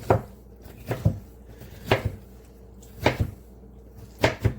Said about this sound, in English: Okay, so I did like 4 big peppers. I just do rough chops.